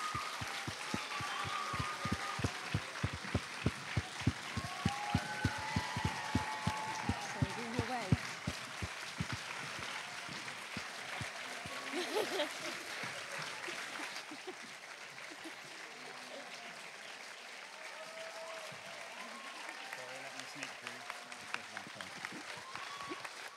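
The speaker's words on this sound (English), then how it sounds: "a fantastic round of applause from you guys" Audience applause at a children's book festival gala evening fills the hall as a sustained, steady clapping that holds for over twenty seconds, with crowd murmur and a voice speaking over it partway through.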